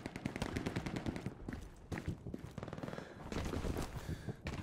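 Rapid machine-gun bursts and scattered rifle shots in the World War II shooter Hell Let Loose, fighting in town streets, come in long chattering volleys with brief lulls, fairly faint and distant overall.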